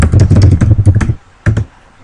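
Typing on a computer keyboard while writing a blog post, with a quick run of close, crisp key clicks followed by a pause and then a couple more taps.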